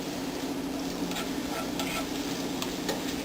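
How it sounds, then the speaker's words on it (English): Zucchini noodles sautéing in a skillet, a steady close sizzle with occasional stirring scrapes, no voices. "Here we're just going to go ahead to a quick saute"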